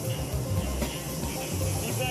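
A paint spray gun sprays candy paint onto a car, giving a continuous, even hiss that stays close and fairly loud with no breaks.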